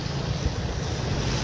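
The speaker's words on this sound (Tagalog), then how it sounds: "Kaso lang malakas talaga yung tubig, umapaw." A creek overflows with strong rushing floodwater after Typhoon Tino, a loud, steady, broadband roar of churning water with no breaks.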